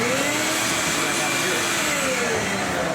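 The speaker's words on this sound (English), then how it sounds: "sometimes I forget to turn the vacuum on" A vacuum hooked into a dust-control setup on a modified Husky workbench runs with a steady, loud, unbroken roar and a faint rising whine, filling the whole stretch without pause.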